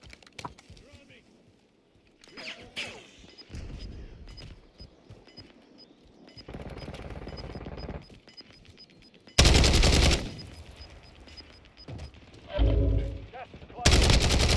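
Video game gunfire crackles in rapid automatic bursts, several loud close volleys separated by quieter stretches, with voices talking between them.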